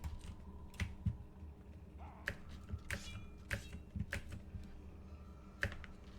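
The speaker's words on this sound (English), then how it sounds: "I hope you love keyboard sounds." A computer keyboard is typed on during a Prince of Persia: The Two Thrones speedrun, giving faint, irregular clicks and taps with occasional louder keystrokes over a quiet background hum.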